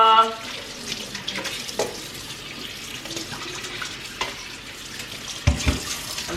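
Tap water runs into a kitchen sink while raw fish is rinsed for a Jamaican fish soup, a steady hiss with brief splashes and clatter, a television faintly audible in the background.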